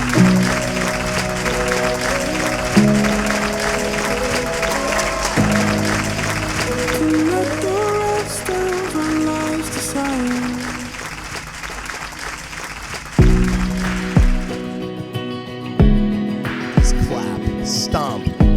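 Wedding guests applaud after the couple's kiss, with clapping running under loud, sustained music that changes sections partway through and thins out near the end.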